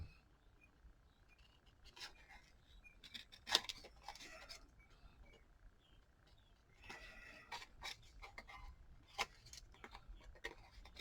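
Scissors snip through an altered book page in short, scattered cuts, some sharper clicks among quieter trims, close and fairly faint with pauses between.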